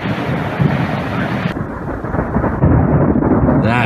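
Heavy thunderstorm rain near an active fire, a dense roar of downpour with low rumbling thunder swelling and a louder burst toward the end, loud and close.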